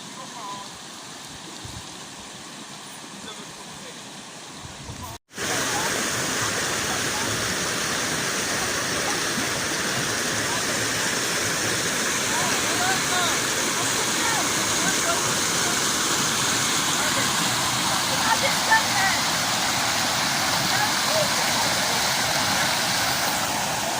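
Water rushes steadily at the Sukkar spring in South Lebanon, a loud, continuous broadband flow like a small waterfall that starts abruptly and carries on unbroken for about twenty seconds.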